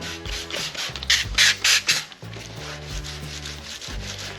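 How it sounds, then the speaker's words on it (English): Car paint being wet sanded by hand with 1500-grit sandpaper, a repeated rhythmic rubbing scrape in short strokes, close and fairly loud, with low tonal background hum. "So let's go ahead and get this wet sanded and see where we're at."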